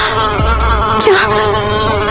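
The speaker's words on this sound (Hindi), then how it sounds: "मधुमक्खी बार बार आकर नताशा के कान के पास आकर गुनगुन की आवाज कर रही थी।" A bee buzzes right beside an ear, a loud, close, steady insect drone with a slight shift in pitch partway through, filling the whole moment with no other sound.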